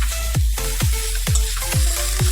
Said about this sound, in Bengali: ঝিঙ্গাটারও একটু ভাজলাম